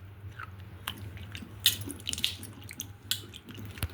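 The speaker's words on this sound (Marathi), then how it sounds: "चांगले स्वच्छ 2 पाण्याने धुवून चाळणीमध्ये काढून निथळून घेऊ स्वच्छ" Grapes being washed by hand in a bowl of water, with soft sloshing, rubbing and dripping sounds close by, irregular and fairly quiet, with no talking.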